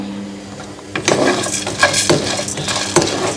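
Sunflower seeds and nuts tip into a hot frying pan with a rattling clatter, followed by a few sharp scrapes and knocks of stirring, close and fairly loud, with no talk.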